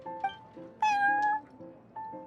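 A cat in the Genshin Impact video game meows several times in quick succession, with short calls and one longer, louder meow in the middle, close and clear over a quiet background.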